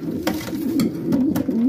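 A racing pigeon hen coos in low, rolling murmurs close by, with a few brief clicks or wing taps over the soft, continuous cooing.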